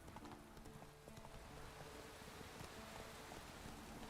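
Hooves of the horse Roach in The Witcher 3 as it is ridden, a steady clip-clop gait at a moderate pace under a soft, constant ambient bed, no voices.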